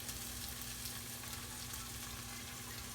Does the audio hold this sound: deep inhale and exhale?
no